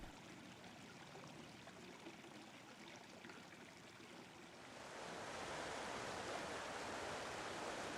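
High river water rushing through a Peak District dale in early spring, a continuous broad roar of flowing water that grows louder and fuller partway through, steady and close, with no voices.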